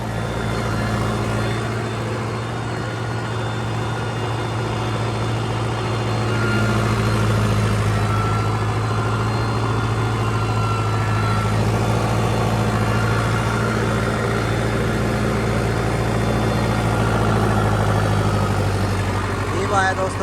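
Sonalika turbo tractor with a 15 hp upgrade, its diesel engine running steadily at idle to mid revs, loud and close with a constant low drone throughout.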